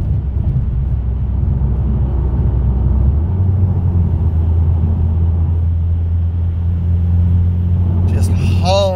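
A Cadillac Escalade V driving fast on a Texas road, a steady loud engine and road rumble that deepens in pitch partway through, with a voice speaking over it.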